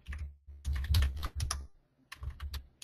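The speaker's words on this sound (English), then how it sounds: "we come over here and we type in homes for sale" Quick bursts of keystrokes on a computer keyboard as a search query is typed, clustered clicky taps separated by short pauses, close and clear.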